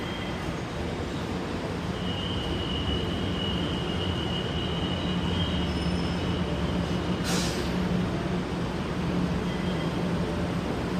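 An LRT train bound for Carriedo station rumbles steadily and continuously at close range, with a thin metallic wheel squeal drifting in and out and a brief hiss partway through; no one speaks.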